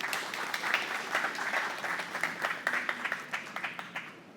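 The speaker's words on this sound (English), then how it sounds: "Can I ask for a round of applause" Audience applause during a software developer conference talk, a moderate room of clapping with distinct individual claps, fading gradually over about four seconds.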